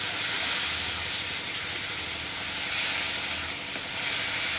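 Shrimp frying in a pan with turmeric, chili and salt, producing a loud, steady, close sizzle and hiss that fills the whole stretch without pause or talking.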